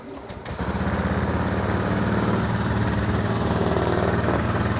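A 2019 Honda Beat scooter engine runs at a steady idle, its fast, even putter loud and close, with no talk over it.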